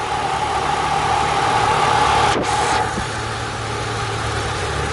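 A Volvo 240 car engine runs at a steady idle close by, a continuous low rumble with a faint whine, and a brief sharp click partway through.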